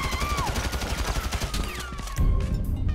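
Rapid bursts of gunfire at glass in GTA 5, a dense fusillade of sharp repeated shots with ringing impacts, loud and close, continuing throughout with a heavier low thump near the end.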